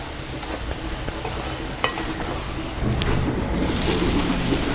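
Drumstick leaves and moong dal poriyal being stirred in a pan, with steady scraping and soft sizzling throughout and a brief sharper clink of the spoon partway, fairly close and with no talk.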